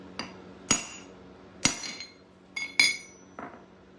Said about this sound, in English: Got the hammer and chisel